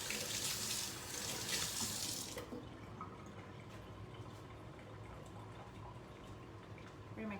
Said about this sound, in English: I'm gonna wash my hands real quick here.